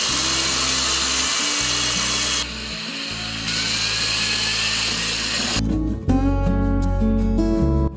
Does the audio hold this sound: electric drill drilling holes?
yes